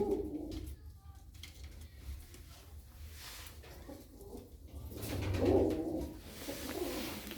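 Ankara tumbler pigeons coo softly nearby in low, repeated calls. The cooing swells toward the end, with faint background noise underneath.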